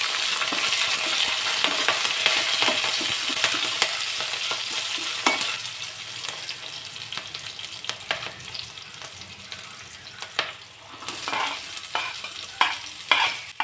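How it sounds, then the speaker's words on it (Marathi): Curry leaves and thin lengthwise-sliced green chillies splutter and hiss in hot oil, a dense close sizzle that gradually softens, with scattered clinks and scrapes of a spoon stirring the pan. "कढीपत्त्याची पानं घातली आणि त्यानंतर हिरव्या मिरचीचे असे उभे पातळ काप करून घेतलेत ते घालायचे"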